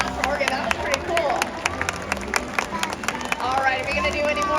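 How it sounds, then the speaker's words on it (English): Scattered audience clapping and crowd noise at a SeaWorld San Diego orca show, uneven individual claps ringing out over murmuring voices and an announcer talking. "let's give a round of applause for Orchid"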